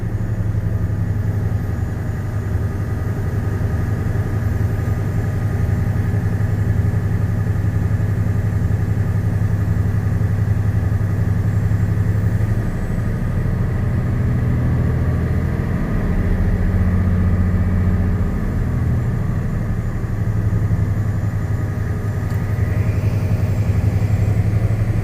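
A truck's diesel engine runs steadily and loudly in the cab, holding a deep, constant drone near 1,500 RPM at the governor cutout, with no talk over it.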